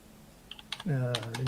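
Quick clicks of typing on a computer keyboard during a coding walkthrough, a few keystrokes heard close up before a voice starts talking over them.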